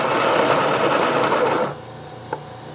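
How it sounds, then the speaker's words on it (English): A Baratza electric burr coffee grinder regrinds leftover coffee fines, a loud steady whirring grind that runs for about a second and a half, then cuts off abruptly, leaving only a quiet background with a small click. "I've just got some fines in here I'm going to regrind, from when we were changing the grind size."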